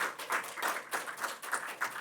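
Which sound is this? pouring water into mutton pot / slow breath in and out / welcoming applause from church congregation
welcoming applause from church congregation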